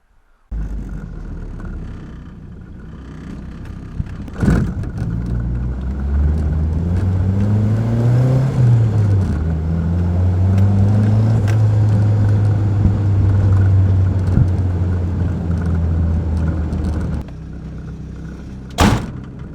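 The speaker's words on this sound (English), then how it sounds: "sorry for the super loud, noisy, rattly car in the background" A loud, rattly custom widebody Nissan 240SX engine idling nearby with a droning hum that shifts in pitch, framed by two sharp clunks like doors.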